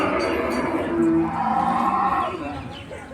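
Buffaloes lowing at a village cattle market, a loud close drawn-out moo rising over a steady crowd and market murmur.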